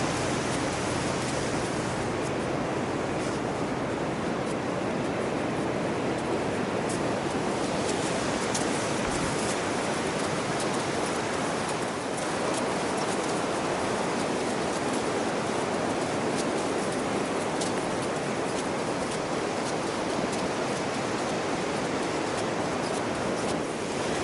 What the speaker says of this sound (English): sound of waves. It's hypnotic.